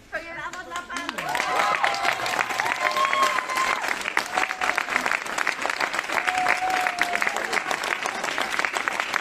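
Crowd at an abortion-law protest outside the PiS party headquarters applauds steadily and loudly for nearly ten seconds, dense clapping throughout with a few voices and whistles rising above it.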